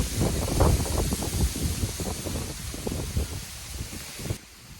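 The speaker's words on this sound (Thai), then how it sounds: "ลมแรงมาก" Strong wind gusts through foliage at an outdoor viewpoint, a loud continuous rushing rustle with buffeting bursts that drops away abruptly near the end.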